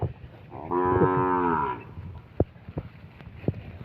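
A cow gives a single clear, fairly close moo lasting about a second, followed by a few soft knocks and shuffling noises in a quiet outdoor setting.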